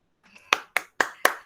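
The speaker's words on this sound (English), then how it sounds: "when you have to clap after finishing anyone's speech" Children clap together after a speech at an Independence Day celebration in a classroom or school, giving five loud, evenly spaced group claps in quick rhythm, close by, with no talking.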